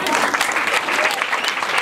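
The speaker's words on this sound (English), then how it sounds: "Please clap for her." Strong, sustained applause from an audience at a school event donating menstrual hygiene kits to girls, thick overlapping claps filling the space loudly and evenly throughout.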